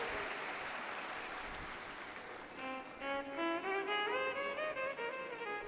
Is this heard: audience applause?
yes